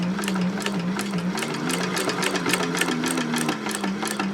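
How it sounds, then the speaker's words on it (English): A sewing machine back stitches over a seam at a bag pocket, running loud and close with a steady rapid whir and a pulsing needle rhythm that shifts slightly in pitch as it reverses. "When I get to where the pocket is, I do like to back stitch over that area."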